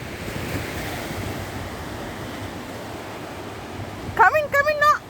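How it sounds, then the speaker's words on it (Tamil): Sea waves rushing in and crashing on a rocky shore during flooding, a continuous loud roar with wind buffeting the microphone, and a voice breaking in near the end. "அந்த தண்ணி அங்கே ஓடிட்டு அடிச்சு வருது பாருங்க"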